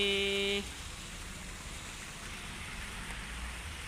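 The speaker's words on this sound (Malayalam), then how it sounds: "ഇതൊന്നല്ല കേട്ടോ മഴ, ഇതിലും നല്ല വമ്പിച്ച മഴ വരാതിരിക്കുന്നു" The season's first rain in Pune falls as a soft, steady hiss. A brief tonal sound opens the clip, then it gives way to faint, even patter that continues throughout.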